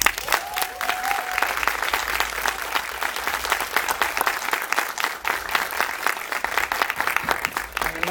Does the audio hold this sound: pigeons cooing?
no